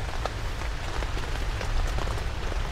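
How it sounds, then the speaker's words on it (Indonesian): Heavy rain driven by strong wind drums on a camping tent, a dense, steady patter of close drops with no letup and no voices. "Kita basah juga karena angin, Hujan angin."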